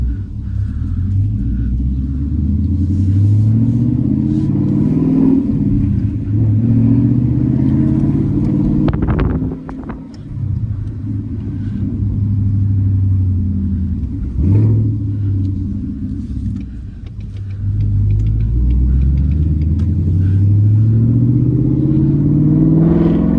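A Ford Mustang GT with a V8 and manual gearbox, driven in track mode, fills the cabin with a loud, deep exhaust rumble that rises and falls through gear changes, with brief dips where the revs drop between shifts.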